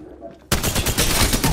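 A sudden loud burst of rapid gunfire in Apex Legends, close and continuous after a brief quiet lead-in.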